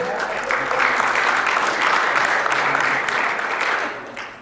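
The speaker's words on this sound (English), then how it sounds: "You're just trying to freak me out by clapping" Audience at a Star Wars fan convention comedy show claps steadily for about four seconds, a dense sustained applause from a large indoor crowd that tapers slightly at the end.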